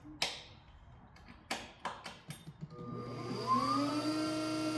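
An ES 1000 machine starts with a few sharp mechanical clicks, then spins up into a steady whirring tone with a rising pitch, close and moderately loud, with no talking.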